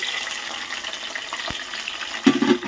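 Chopped onion, green chili and tomato sizzle and fry steadily in a pan, with a soft stirring scrape and a louder crackle burst near the end, no talking.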